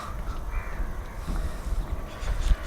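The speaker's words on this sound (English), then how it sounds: "you will listen that all the birds are singing. Not singing actually, they are crying." Crows caw repeatedly at a moderate distance over a steady low rumble, with other faint bird calls scattered through the outdoor jungle ambience.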